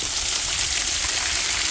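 Steady rushing water from a waterfall on a canyon hiking trail in the Ozarks fills the whole stretch, a dense continuous roar of falling water close by, with no voices.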